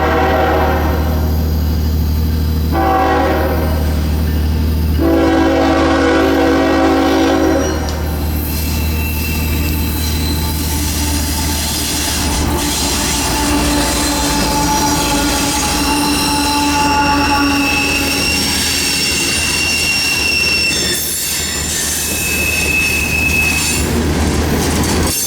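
CSX freight train Q452 passes at Callahan on a North Florida mainline, loud and close, with continuous rumbling rail noise, sustained wheel squeal and horn blasts throughout.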